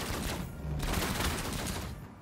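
Gunfire in the video game Outcast: A New Beginning, a rapid, loud run of shots blurring into a continuous volley, with no talk over it.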